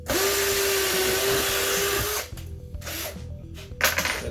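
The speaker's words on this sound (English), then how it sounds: "So let's go ahead and drill us a pilot hole." A power drill bores a pilot hole in wood, a loud steady whirring for about two seconds, then stops, followed by quieter clunks and handling sounds of the drill and workpiece nearby.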